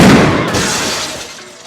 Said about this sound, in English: when the shotgun accidentally went off